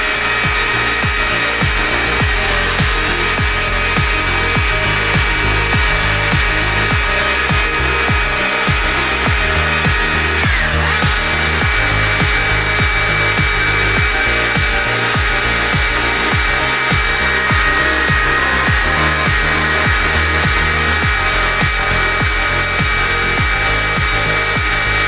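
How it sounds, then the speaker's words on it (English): A chainsaw tip gently shaves wood while carving a barn owl, giving a continuous high, buzzing engine whine with a rhythmic low chatter as the blade bites and eases off. "just literally using the tip of the saw again, just this heel section here, just literally just shaving back very gently"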